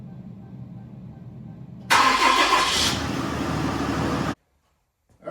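Ram 6.7L diesel engine in a 4th-gen truck cranking and firing up with a loud, broadband roar that settles into a steady rumble, then shuts off abruptly.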